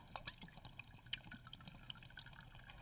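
Water trickles and splashes into a cup in a kitchen, a faint, uneven stream with small drips, and no talk.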